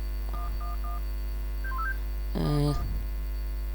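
Telephone keypad tones beep in a short sequence in the video game Henry Stickmin, followed by a louder, sustained dial tone burst, all against a steady low hum.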